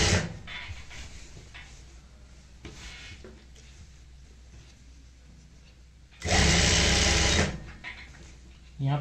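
An electric sewing machine stitches a salwar, its motor whirring in a loud, steady burst of about a second near the end, with quieter machine hum and handling noise before it.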